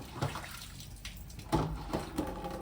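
Water poured and splashed into a basin for hand-washing laundry, intermittent close splashes and trickles over a low background hum.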